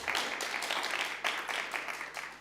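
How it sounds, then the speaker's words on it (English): Conference attendees at the International Vienna Energy and Climate Forum applaud as a speaker is welcomed to the stage, giving a brief burst of steady, even clapping from a seated crowd. "Round of applause for that."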